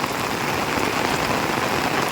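Heavy rain from a cyclone pours onto paddy fields in a dense, unbroken hiss, loud and steady from start to finish with no voices.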